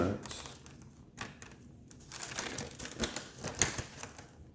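Plastic packaging on a Street Fighter V Hot Ryu collectible figure is undone at close range with quick, irregular crinkles, snaps and rustles that run for a few seconds with no talking.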